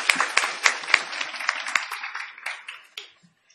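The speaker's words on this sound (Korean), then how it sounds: "감사의 박수를 드리면서 마칠까 합니다." Conference attendees give a short round of applause at the closing, a brief burst of separate claps that thins out and fades within a few seconds.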